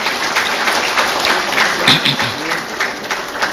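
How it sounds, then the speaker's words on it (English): Conference audience at a formal military event gives a sustained round of applause, loud, dense clapping filling the hall throughout with a few brief voices mixed in. "may I call for another round of applause for His Excellency"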